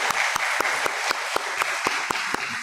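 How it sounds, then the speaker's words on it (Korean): Applause from a church seminar audience welcoming a couple to the front, steady rhythmic clapping with a few sharp individual claps standing out nearby. "큰 박수로 환영하시겠습니다"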